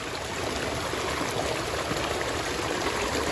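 A small waterfall beside a streambed prospecting spot near Silverwood Lake, California, pours in a steady, close, full rushing wash of water that holds even and unbroken throughout, with no talk.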